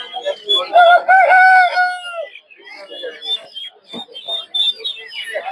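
A rooster at Tongi poultry market lets out one loud, clear crow, followed by scattered clucks and chirps from chicks and other fowl nearby.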